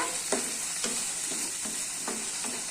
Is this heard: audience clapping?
no